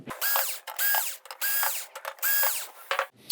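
Screws being driven out of a TCL 43S425 TV chassis with a power screwdriver, four close, loud whirring bursts in a steady rhythm with short clicks between them, no voices.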